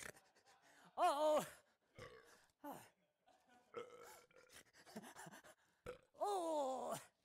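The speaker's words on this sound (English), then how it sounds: "It's a burp." Two loud, drawn-out voiced burps, one near the start and one at the end, from a children's clown comedy show, with short grunts and gasps between them.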